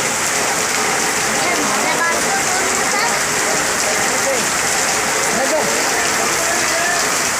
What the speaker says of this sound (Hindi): वरसाद आज जोरदार है